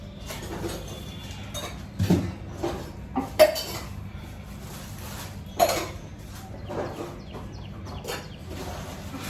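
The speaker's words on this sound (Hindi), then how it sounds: "अब सारे बर्तन हम उधर सप्लाई कर रहे हैं" Dishes, glasses and utensils clink and knock as they are carried and set down while a kitchen is cleaned, a few sharp clatters standing out over a low steady background hum.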